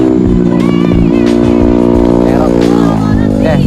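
Motorcycles roar past loudly nearby on a street in Parung, engines revving hard with rising and falling pitch, a voice talking over the engine noise.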